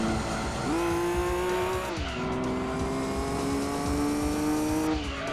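A car slides with a long, sustained tyre squeal in Gran Turismo 2, the engine note shifting in pitch as it drifts, loud and steady for several seconds.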